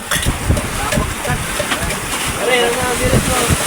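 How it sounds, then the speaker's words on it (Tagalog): Rough waves in strong weather slap and slosh against moored fishing boats, a choppy rumble of water hits under a voice talking nearby, with gusting wind noise throughout. "Hinahampas ng alon. Lumalagapak."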